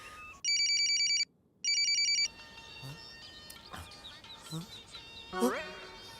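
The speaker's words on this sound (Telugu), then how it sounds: "రింగ్ అవుతుంది." A telephone rings in a Telugu film scene as two loud, steady electronic trills separated by a short gap, followed by quieter background sounds and a brief high chirp.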